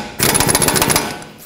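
An impact power tool snugs a sway bar link nut on a 2009-2013 Honda Fit front strut, giving one loud, close, rapid rattling burst of just under a second that then fades, with no talking.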